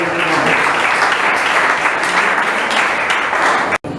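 Church congregation applauding during a Sunday service, a dense, steady wash of many hands clapping together at close range, holding loud and even before a brief cut near the end.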